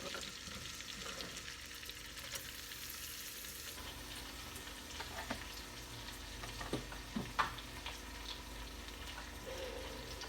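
Pieces of food fry in a butter and olive oil mixture, giving a steady, close sizzle with scattered crackles and a few sharper pops near the end.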